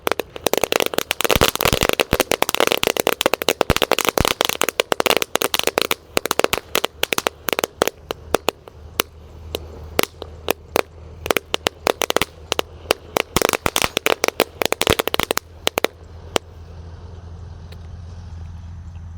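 Thunder firecrackers lit and set into the ground burst in a dense, rapid string of sharp cracks and pops, crowded at first and then spacing out before stopping, with a low hum beneath.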